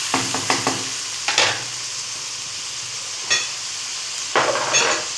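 Tomato, garlic and peas frying for pea pulao while being stirred, with a steady sizzle and bursts of spoon scraping across the pan at the start and again near the middle and end, close and moderately loud.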